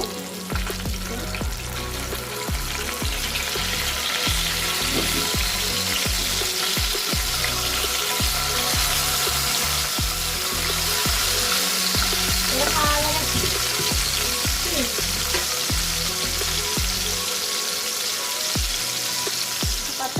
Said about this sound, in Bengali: মাছগুলো আমি এপিট উপিট ভালো করে ভেজে নেব হয়ে গিয়েছে এবার আমি উল্টিয়ে দিব